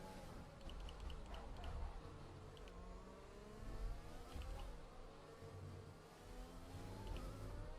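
Formula 1 car engine in the video game F1 2020, a continuous mid-level whine rising and falling through shifts, with faint background noise and no talking over it.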